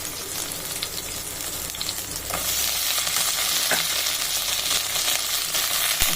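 Brinjal pieces sizzling and being stirred in a clay pot over heat, with a steady loud frying hiss, occasional scraping knocks from the spoon, and no talking.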